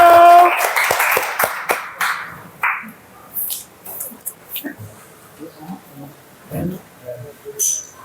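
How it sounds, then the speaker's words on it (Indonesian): A classroom gives group 1 a round of applause after their presentation: a short burst of scattered, uneven claps for about two seconds, then students' voices talking. "kita beri tepuk tangan dulu untuk kelompok 1"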